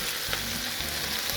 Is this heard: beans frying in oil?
yes